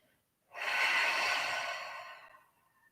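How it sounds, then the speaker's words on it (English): A single long, breathy exhale during a calm yoga flow, close and fairly soft, rising quickly and then fading slowly over about two seconds. "Taking those inhales and exhales."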